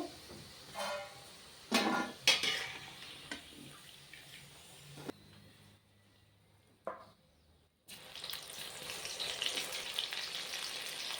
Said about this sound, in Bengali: এটা লাল করে ভেজে নেব।